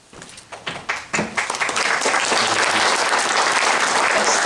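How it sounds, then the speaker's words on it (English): Applause from an audience of program participants, starting as a few scattered claps that quickly swell into loud, dense, sustained clapping from a crowd. "Thanks for that clapping."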